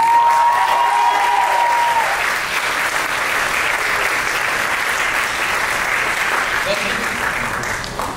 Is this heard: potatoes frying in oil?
no